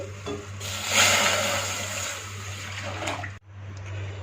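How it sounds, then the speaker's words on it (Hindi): Half a kilo of full cream milk poured into a pan, a steady close liquid rush and splash with a constant low hum, stopping abruptly near the end. "एक पैन में आधा किलो दूध डाल देंगे।"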